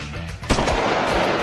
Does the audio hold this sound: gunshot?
yes